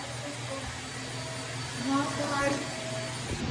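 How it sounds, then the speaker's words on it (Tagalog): A steady whooshing hum of an air conditioner runs throughout, with faint voices and small sounds mixed in underneath. "The aircon,"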